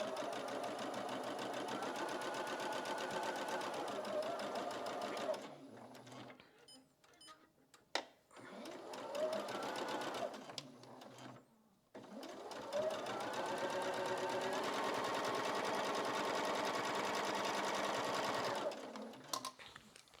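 A sewing machine stitches quilt pieces in two long, steady runs separated by a pause with handling sounds, loud and close.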